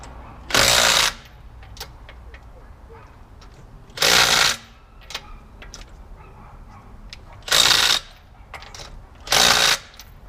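Four loud, close bursts from a power impact tool tightening wheel nuts at its setting of 4 on a car under maintenance, each lasting about half a second with quiet gaps of several seconds between them.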